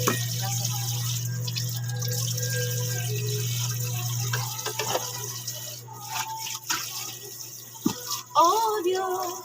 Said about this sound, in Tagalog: Hugas muna ako kasi yung pagkainan mo ay hindi pa nahugasan.